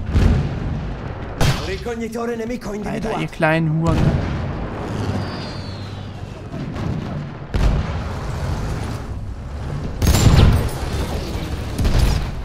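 Several loud booms and blasts of tank cannon fire and exploding shells in Battlefield 1 multiplayer, spread irregularly, with someone talking excitedly between them.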